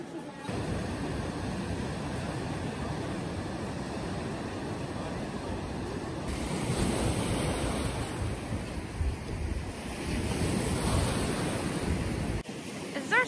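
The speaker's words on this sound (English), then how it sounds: "Something more beautiful than the sea in winter?" Waves wash steadily onto the Black Sea shore near Odessa in winter, a continuous broad roar of surf with gusting wind buffeting the microphone throughout.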